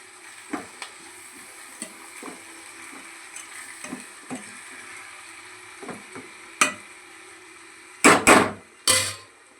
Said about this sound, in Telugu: ఇలా తాలింపు పెట్టుకున్నాం కదా